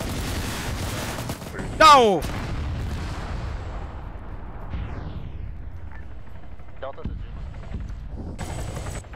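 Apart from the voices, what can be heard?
gunfire and missile explosions in a video game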